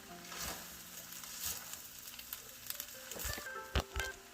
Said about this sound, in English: And Chef Cellini's getting that all mixed up, putting the finishing touch on this Thai fried rice.